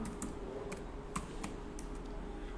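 Computer keyboard being typed on in a quiet room, a handful of separate light key taps spaced irregularly, with an Enter press among them, close and fairly soft.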